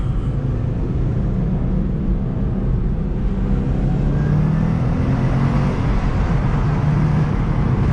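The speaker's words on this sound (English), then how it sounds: "Smash it into second gear, takes the corner, grips it nicely." A Subaru WRX STI on a road in Japan drives steadily, its engine making a loud, continuous low drone under road and cabin noise, heard from inside the car with no clear gear change and no voices.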